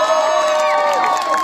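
A crowd at Kali Prasad Baskota's live concert in Jhiljhile, Jhapa, cheers and shouts with clapping in a dense, steady wall of voices, several shrill whoops rising above the noise.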